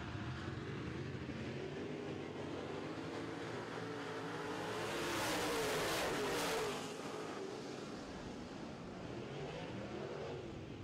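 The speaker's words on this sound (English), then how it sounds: "Good racing action here in your Power 97 Modified division." Modified-division race cars roar around a track in a heat race, a continuous engine drone swelling as a pack passes close by near the middle, then easing back to a steady distant rumble.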